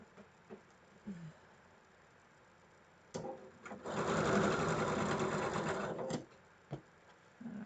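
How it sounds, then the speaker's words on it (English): A sewing machine stitching quilt patches together for a Moda Blockheads block: a steady whirring run of about two seconds in the middle, with brief taps and handling noises before and after. "we're going to sew our 4 patches"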